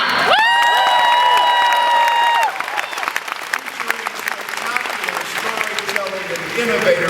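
A crowd at an awards ceremony applauds and cheers loudly, dense clapping with shouts and whoops, while a high whistle or shriek rises briefly at the start; continuous and close throughout.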